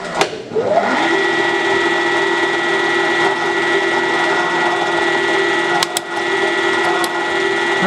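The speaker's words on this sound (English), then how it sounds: "Alright, so a larger carbide drill" A larger carbide drill bites into a crusty broken bolt in a steady, loud whirring grind with a rising pitch as it spins up, then holds, with a couple of sharp metallic ticks near the end.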